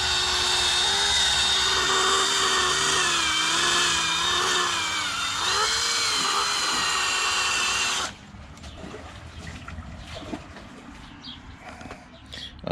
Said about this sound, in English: It's very hard to control the drill.